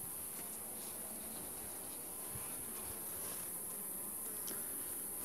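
Honey bees hum in an open beehive, a steady, close, soft buzzing swarm that carries on without pause, with a faint high hiss in the background.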